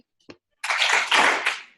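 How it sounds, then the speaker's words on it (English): Two quick claps from an audience at a school event: one small, faint clap, then a louder burst of clapping that fades out, with no voices over it. "Can I get 2 claps?"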